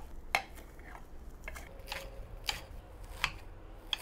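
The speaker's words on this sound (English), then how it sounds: "now we're going to gather all of these leaves and finely chop it up" A knife chops pumpkin leaves finely on a board, with scattered sharp, quiet taps and soft scraping spread unevenly over a few seconds, no voices.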